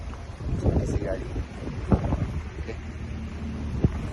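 Strong wind gusts batter the microphone at an outdoor camping spot, a constant rough rushing with a few sharper buffets, while voices talk faintly underneath.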